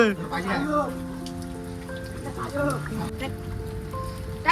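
Heavy monsoon rain pours down in a steady, hissing wash over an outdoor party in the Konkan countryside, while people talk over it.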